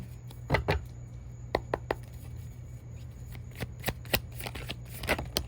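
Tarot cards being shuffled by hand in bursts of crisp riffling and slapping, with short clustered flicks spread across the clip, close and fairly quiet over a steady low hum, no talking.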